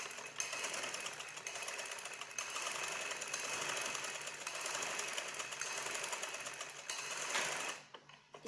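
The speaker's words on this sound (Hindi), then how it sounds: "अब हमने जो एक्स्ट्रा कपड़ा था ये हमारा आगे इससे पट्टियों से, उसको पट्टियों के ऊपर फोल्ड किया है और इसके ऊपर हम सिलाई लगाएंगे।" Sewing machine running steadily as it stitches folded extra cloth down over strips on a shirt, a dense continuous mechanical whir close to the mic that stops abruptly near the end.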